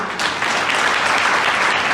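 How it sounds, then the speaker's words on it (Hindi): A seminar audience claps loudly and continuously in a dense, even burst of applause with no talk over it. "एक बार जोरदार ताली।"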